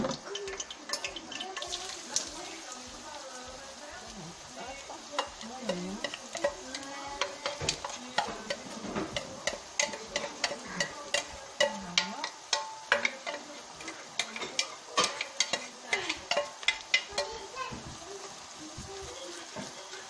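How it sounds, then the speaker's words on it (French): Onion frying in a pan for a chicken, pepper and tomato sauce dish, a steady soft sizzle broken by frequent clicking scrapes of a spoon stirring, close and moderate, with occasional talk. "On va laisser revenir l'oignon."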